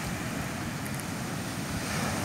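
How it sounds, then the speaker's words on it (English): Ocean waves wash against a beach front in Cape Coast, Ghana, a continuous broad hiss of surf mixed with wind noise, steady and fairly loud, with no voices. "I'm just going to show you the view of"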